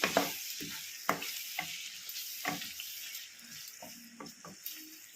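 Onion, green chili and curry leaves frying in a pan for a village-style coconut gongura prawn curry, with steady sizzling broken by repeated sharp stirring scrapes, close and clear, with no talk.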